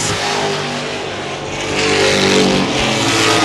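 Late model race cars drone loudly around the Baer Field Speedway oval, their engines blending into a continuous roar that swells as the pack passes near.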